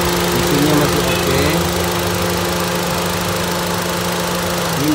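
A white 2015 Honda Brio Type E manual car engine runs at a steady idle, giving a continuous, even mechanical hum close by with no breaks.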